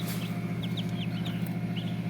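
Turkey chicks peep in quick, faint high chirps repeated over a low steady hum, with no talk.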